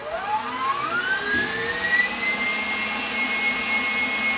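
An electric mixer whirs loudly and steadily through chocolate cheesecake batter, its pitch climbing smoothly as it speeds up and then holding a high whine, with no talk.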